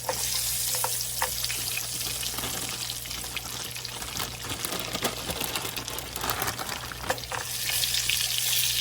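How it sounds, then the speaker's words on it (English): Tater tots fry in rendered pork fat, a loud, dense sizzle and bubbling that runs continuously with occasional stirring scrapes. "I'm just going to drop them in here and fry them in here"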